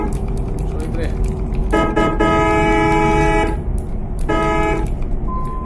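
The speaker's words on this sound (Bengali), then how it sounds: "আর হর্ন দিয়া সিগন্যাল দেয়া গেছে দেখো" Bus horn in Euro Truck Simulator 2 on a Bangladesh night route, sounding in two loud sustained blasts over steady engine and road noise, with someone talking throughout.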